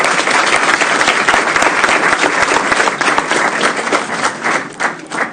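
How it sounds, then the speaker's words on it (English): Loud audience applause at a regular business meeting, with dense, sustained clapping from a room full of people that stays steady, then thins slightly and turns more uneven near the end. "Let's give him a round of applause."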